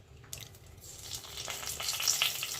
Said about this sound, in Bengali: এবার এই তেলেই আমি ফোড়নগুলো দিয়ে দেব।